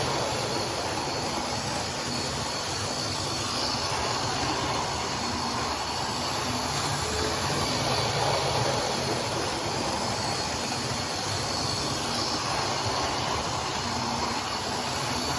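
A model Class 92 locomotive runs steadily past at close range, giving a continuous loud hiss and rumble with no pauses throughout.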